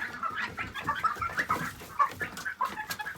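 Homestead chickens cluck steadily and overlap one another as they crowd around a feeder, a busy close chorus with no voices over it.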